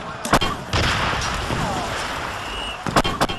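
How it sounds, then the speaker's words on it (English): Mortar fire in a dramatized Battle of Kapyong, Korea 1951, with sharp close blasts at the start and end framing a long rumbling roar of battle noise. "They do, though, have mortars."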